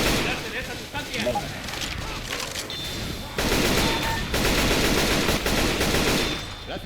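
Rapid bursts of automatic gunfire from Left 4 Dead 2 zombie-survival gameplay, dense and continuous, with loud stretches of sustained shooting mixed with game sounds and players shouting over the fire.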